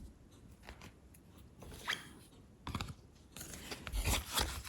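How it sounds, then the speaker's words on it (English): Scissors snip through crochet yarn: a few quiet, close crunching cuts and soft handling rustles, fairly faint. "and cut off the yarn."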